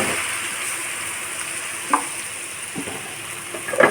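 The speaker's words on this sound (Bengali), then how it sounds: "এখন আলুটা দিয়ে কষিয়ে নেব।" Potatoes fry with spices in oil in a pan, a soft, even sizzle under a few faint clinks and stirring touches, fairly quiet and with no talking.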